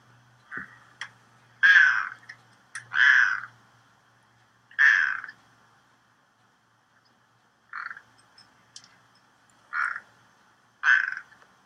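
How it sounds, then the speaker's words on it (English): A cat meows repeatedly, seven or so short, nasal calls spaced out with quiet gaps between them, close and clear in a quiet room. "Here's his I'm hungry meow."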